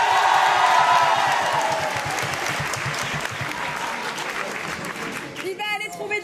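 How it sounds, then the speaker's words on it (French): Theatre audience at an improv comedy festival bursts into loud applause with cheers and whoops, a dense crowd roar that fades gradually toward the end as a voice starts speaking. "si c'est pour Charlotte, applaudissez maintenant."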